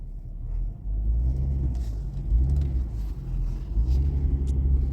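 A 2009 Nissan Murano SL AWD creeping off at very low speed in a parking lot, its engine a steady low rumble near 1,000 rpm that swells slightly as it pulls away, with no voices.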